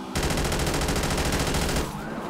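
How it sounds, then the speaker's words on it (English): Rapid automatic gunfire from a weapon in a GTA roleplay game rattles loud and close for nearly two seconds in a dense continuous burst, then cuts off abruptly. "I'm shooting a gun, motherfuckers"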